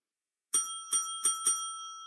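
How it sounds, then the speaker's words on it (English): Four quick rings of a bright, metallic bell used as a radio-play sound effect, each strike leaving a sustained ringing tone that carries on after the last hit, with no voices. "ring a bell,"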